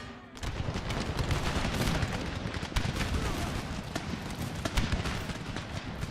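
Massed musket volleys from Minutemen infantry in Empire Total War crackle continuously, with dense overlapping shots and sharper individual reports standing out over a loud battlefield roar.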